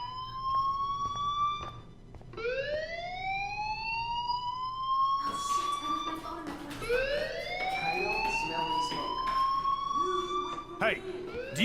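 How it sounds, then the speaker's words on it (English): A school fire alarm in the Life Is Strange video game sounds as rising, siren-like electronic sweeps that repeat across the scene, loud and continuous, with game voices speaking over it. "do you hear that fire alarm?"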